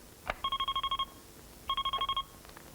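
An old-style telephone rings in two rapid trilling bursts separated by a short pause, clear and fairly close.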